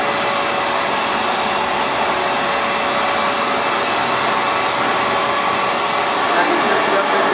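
A Hoover FloorMate Edge floor cleaner runs on a wood floor with a loud, steady broadband motor whine and a faint constant tone, unbroken throughout.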